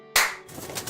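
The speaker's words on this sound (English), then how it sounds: "Let's clap." Hands clap sharply once, then a short burst of scattered clapping follows, fairly quiet and with no voices.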